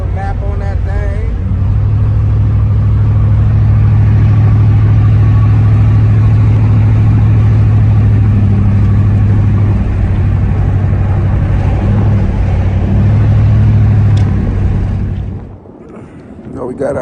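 A Chevrolet Caprice Classic car driving, heard from inside as a loud, steady low engine rumble and road drone that fades near the end, with someone talking over it.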